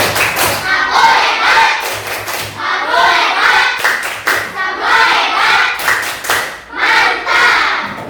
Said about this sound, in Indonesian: Tepuk hebat untuk kelompok 2. Tepuk hebat.